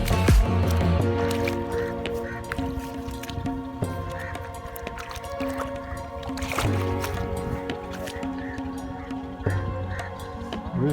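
Water sloshes and splashes in uneven pushes, close by, with wet squishing and gurgling as it is shoved along, under a steady background hum.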